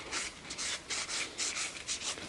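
A Scotch-Brite pad rubs briskly along a leather edge, a dry scratchy scrubbing in quick repeated back-and-forth strokes, close and steady with no talking.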